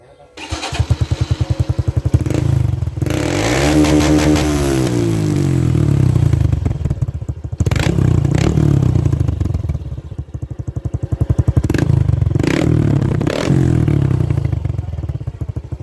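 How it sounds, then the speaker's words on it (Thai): A Honda Wave 110i 2021 motorcycle with a loud, throaty aftermarket VCT exhaust revs repeatedly up and down, close by, with a rattly idle between the blips. "ทดสอบเสียง VCT กับ เวฟร้อยสิบไอ สองพันยี่สิบเอ็ดครับ ฟังเสียงครับ"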